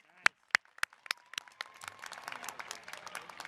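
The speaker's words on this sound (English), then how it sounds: "Give him a round of applause." Sparse, separate claps that build into light applause from a commencement ceremony audience at a school of engineering, faint and fairly distant.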